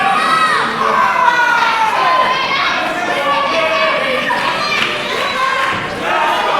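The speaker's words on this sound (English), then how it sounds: "The crowd goes wild for Chris Kage." A wrestling crowd at a Shadow Wrestling Alliance show cheers and shouts loudly and steadily, with high excited voices rising and falling throughout.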